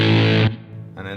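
Electric guitar through a fuzz pedal: a loud, thick distorted chord rings for half a second, cuts off into a faint buzzing tail, then another fuzzy strum starts near the end.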